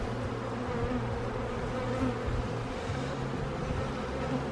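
Honeybees swarm around an open hive during an inspection one week after installation, giving a steady, dense buzzing hum that stays close and even throughout.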